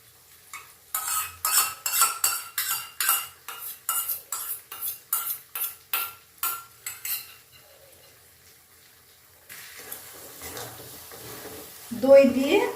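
Half a cup of yogurt added to masala in a pan over low heat for paneer masala, with a spoon knocking rhythmically against the pan about a dozen times, then a pause and a soft stirring and sizzling sound.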